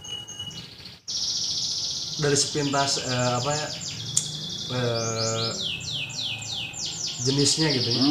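Bar-winged prinias (ciblek) chirp in quick repeated bursts of high, trilling calls, fairly close, while two people converse in Indonesian over and between the bird notes.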